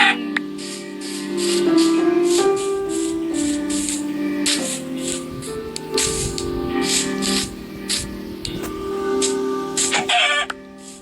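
Chickens in a survival video game cluck and squawk repeatedly over a steady layer of synthetic game music, with a sharp burst of clatter near the end; no one talks.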